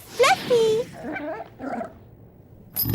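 A cartoonish three-headed demon dog from a Pac-Man cartoon yips and whimpers in a couple of short, high vocal bursts, close and loud, followed by a softer growl-like sound.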